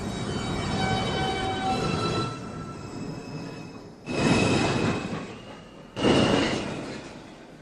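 A Manhattan-bound 2 train of the NYC subway at Lincoln Center station rumbles steadily with a thin tonal whine, then two louder surges of rushing noise swell around the midpoint and near the end, with no talking.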